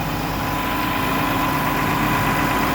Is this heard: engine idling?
yes